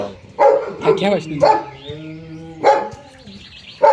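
A dog gives a few sharp barks and a drawn-out whine, close by, mixed with people talking at a resort in Tangail, Bangladesh.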